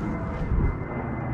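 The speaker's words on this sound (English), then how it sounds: "Thank you, plane. I really needed the extra background." Airplane passing overhead during an outdoor review of a Canyon Commuter 7 bike: a steady, broad, low roar that fills the whole moment, fairly loud, with no talking over it.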